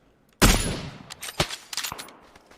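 Gunfire in PUBG video game: a sudden loud shot rings out and echoes, followed by a scatter of fainter distant shots over the next two seconds.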